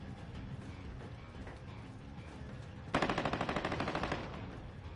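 Rapid automatic gunfire from a Call of Duty match bursts in partway through, a close, loud rattling string of shots over a steady bed of game ambience and battle noise.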